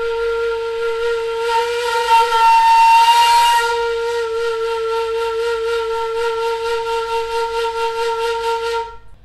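A breathy Arabian ney flute holds a steady, airy tone with a strong hiss of breath, sustained for several seconds before cutting off.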